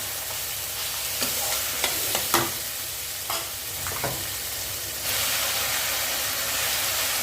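Tomatoes and onions sizzle and crackle steadily in a hot pan, with occasional stirring scrapes and a louder hiss of frying that swells partway through.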